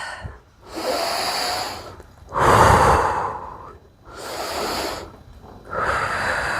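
Slow breathing during a side-bend stretch, with four long, close, audible breaths, alternating airy inhales and heavier sighing exhales in a steady rhythm and no talking.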